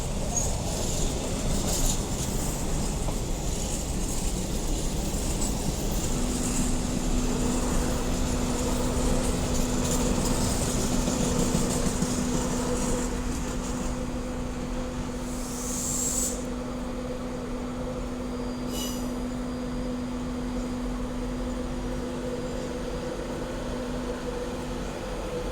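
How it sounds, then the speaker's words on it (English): British Rail Class 91 locomotive 91106 pulls out of Doncaster station bound for Leeds, a steady low electric drone and rumble with a sustained tonal whine rising in, plus a couple of brief high squeals from the platform. "And then also departing is 91106 off to Leeds."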